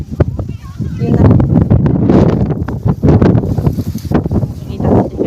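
Wind gusts across a mountain trail on Tai Mo Shan, buffeting the microphone in loud, uneven rumbling bursts while a voice talks through it.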